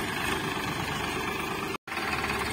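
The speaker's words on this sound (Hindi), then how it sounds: "ये है भाइयों अपना ट्रैक्टर फार्म ट्रैक 60।" A Farmtrac 60 tractor idles close by with a steady, even engine chug that continues without change, broken by one abrupt instant of silence.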